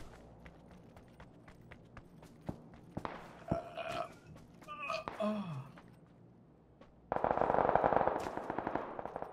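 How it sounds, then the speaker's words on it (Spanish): Gunfire rings out in the shooter game TAEGO, fired from far away. Sharp scattered shots crack at moderate volume with pauses between them, and a denser, louder burst of fire comes near the end. "Me disparan desde muy lejos"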